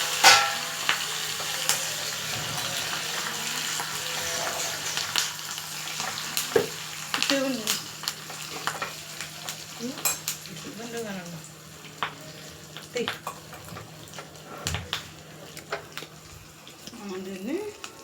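Tempering spices sizzling and frying in a pan for rajma sambar, a crackling fry with stirring scrapes and clinks, moderately close, with a faint voice at times.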